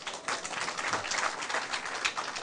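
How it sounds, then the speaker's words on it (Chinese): A small seminar audience in a Taiwanese administrative training class claps together to welcome three women to the front, a brisk patter of hands lasting a few seconds at moderate distance. "我甲拍手欢迎一下啦"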